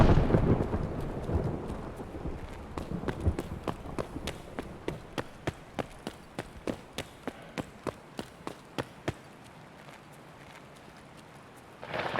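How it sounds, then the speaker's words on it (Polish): Thunder rolls through the Escape from Tarkov game world, opening with a deep rumble, followed by a long run of sharp, evenly spaced cracking strikes that fade into a quieter stretch. "Wali tymi piorunami."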